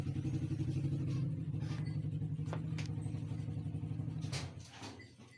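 A close engine rumbles and clatters steadily for several seconds, then fades toward the end.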